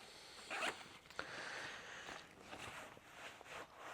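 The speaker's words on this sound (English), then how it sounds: "as you zip them, they just flow so nice" A zipper on fishing waders is pulled in a few quick, close rasping strokes, with softer rustling of the wader fabric between pulls and no talk.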